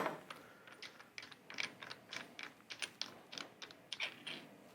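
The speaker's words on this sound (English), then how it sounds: "what we're going to do is remove this lock nut" A wrench working loose a lock nut on a Fox Live Valve shock from a 2019–2020 Ford Raptor gives quiet, quick ratcheting clicks in an irregular run, close by with no voices.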